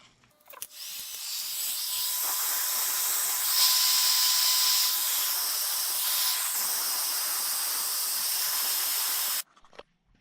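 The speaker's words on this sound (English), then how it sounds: "I'm just going to take my heat gun, heat it up, and hopefully this heater hose retains the shape after it cools off" A heat gun blows onto a heater hose from a 1969 Mustang, a loud, steady airy hiss with a thin whine that clicks on, runs for about nine seconds, then cuts off sharply.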